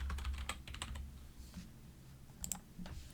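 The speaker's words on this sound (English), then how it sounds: "I'm going to type in the word clean" Fast, irregular clicking of keys on a computer keyboard, close and clear with short bursts and pauses, no voices.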